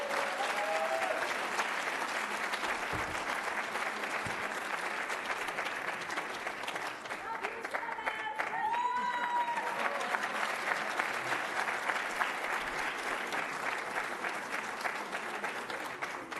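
A graduation ceremony crowd gives sustained applause, an even, continuous patter of many hands that stays moderately distant and unbroken from start to finish.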